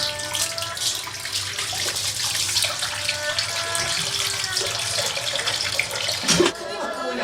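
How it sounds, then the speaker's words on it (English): Hands are washed under a running tap, a steady close splash of water with changes in the flow as the hands move, and a faint voice in the background. "The first thing we do is wash our hands."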